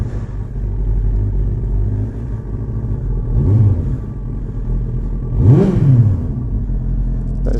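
A motorcycle engine idles steadily while warming up after a KLEEN air/PAIRS removal and carburettor jet and needle work, a close, low rumbling drone with revs that swell and dip slightly a couple of times.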